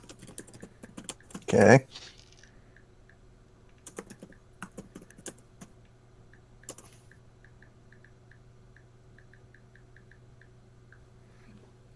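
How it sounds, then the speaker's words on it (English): Sparse, light keystrokes on a computer keyboard during an online Dungeons & Dragons session, quiet scattered clicks after a brief spoken word, over a low steady room hum. "I was just typing in chat"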